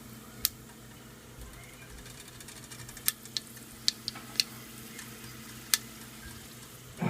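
Whole cardamom, star anise, cinnamon and cloves frying in hot oil for mutton gravy, a steady low sizzle with a few sharp crackles and pops scattered throughout.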